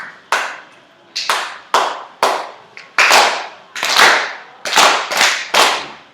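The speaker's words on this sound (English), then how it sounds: "quiet clap while I fix my marker?" First-grade children in a classroom clap together in separate sharp bursts, about a dozen quick slaps in loose rhythm, close and loud with short pauses between, no voices over them.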